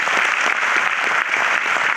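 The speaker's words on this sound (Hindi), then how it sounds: "उनके लिए एक बार ताली बजा सकते हैं अपन?" Seminar audience in Delhi applauding, a dense, steady wash of many hands clapping that fills the whole moment loudly with no voices over it.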